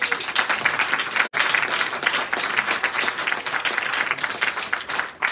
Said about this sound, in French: ça mérite encore des applaudissements